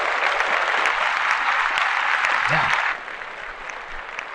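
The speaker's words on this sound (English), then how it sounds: "A lot of clapping up going on here." A crowd's broad applause runs steadily and then drops off abruptly near the end, with a brief voice heard over it.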